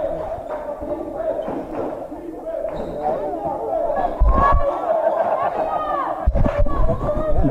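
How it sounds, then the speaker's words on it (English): Arena crowd murmurs and chatters at a TBC Eagles versus Florida Gateway men's basketball game, with sharp ball thuds and a couple of louder bursts of noise breaking through the steady babble. "the crowd livening up"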